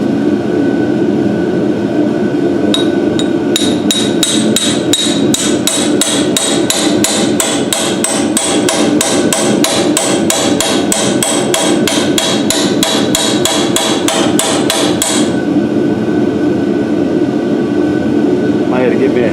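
A hammer strikes repeatedly to knock out a stubborn pilot bearing in a Fox Body car, a rapid, steady run of loud metallic blows close by that goes on for over ten seconds before stopping.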